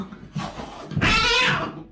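A Bengal cat, a domestic and leopard cat cross, gives two drawn-out meowing calls, the second louder, brighter and closer, with no talking.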